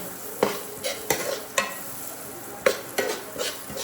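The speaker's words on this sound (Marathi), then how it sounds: "दोन मसाले टाकले थोडा आता फ्राय करून घेऊ आपण" Spice masala frying in a home-kitchen pan, with repeated scraping strokes of a spoon stirring against the metal over a soft sizzle, roughly seven distinct stirs in a few seconds.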